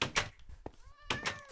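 Minecraft cat meowing in-game: two short mewing calls, the second with clear rising tonal harmonics, plus a soft thunk between them, fairly close against a quiet background.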